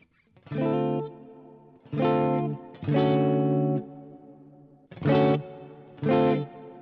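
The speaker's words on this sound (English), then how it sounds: "Lately I've been really digging this large hall reverb." Five sustained electric guitar chords from a stereo amp-modeler rig ring out one after another, each trailing into a spacious, lingering large-hall reverb wash with short gaps between them.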